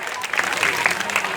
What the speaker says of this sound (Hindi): अब ताली बजाएं।